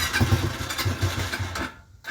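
A motorcycle engine catching and running briefly, close and fairly loud, with a low throbbing idle that cuts out near the end.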